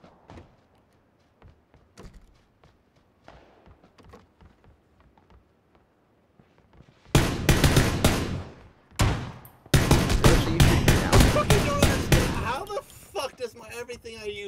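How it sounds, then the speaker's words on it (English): Quiet clicks and scattered taps give way to several loud, sharp bursts of gunfire in a PUBG match, fired in quick clusters with fading tails. "I heard a gunshot, like, incredibly loud in Holy's"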